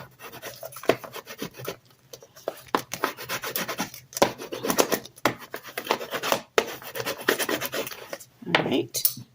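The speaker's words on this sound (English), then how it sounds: "now that's nice and pressed down, make sure we burnish everything." Burnishing a pressed-down antique lace topper onto a paper tag: close, dry rubbing and rasping strokes in irregular bursts with short gaps, continuing for several seconds.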